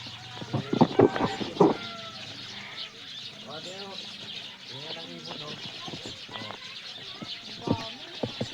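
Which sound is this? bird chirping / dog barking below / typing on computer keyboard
bird chirping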